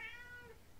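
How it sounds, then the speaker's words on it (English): A single short meow from a pet cat indoors, a faint rising-then-falling cry heard alone in a quiet room. "Oh, that's my cat."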